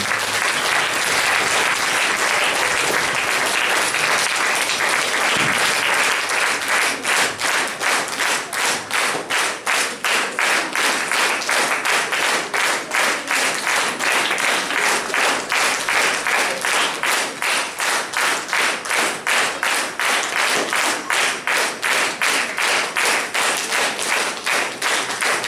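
A concert audience applauds loudly and continuously for a singer, dense clapping that gradually settles into rhythmic, synchronized beats about halfway through and keeps that steady pulse to the end.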